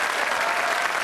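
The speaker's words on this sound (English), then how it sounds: "give a nice round of applause" A studio audience at a game show claps in a brief, dense burst of applause, steady and fairly loud throughout.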